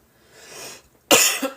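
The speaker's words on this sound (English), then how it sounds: "I gotta clear my throat a little bit here." A single sharp throat clearing bursts out close and loud near the end, after a stretch of faint low background.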